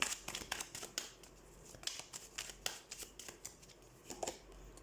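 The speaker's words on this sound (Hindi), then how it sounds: "तो सबसे पहले हम कार्ड शफल कर लेते हैं" Tarot cards being shuffled by hand, a quiet, close series of quick riffling snaps and soft papery flutters in uneven bursts.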